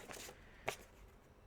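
Tarot cards are shuffled close by in a few soft riffling bursts, with one sharper snap near the middle, all fairly quiet and free of talking.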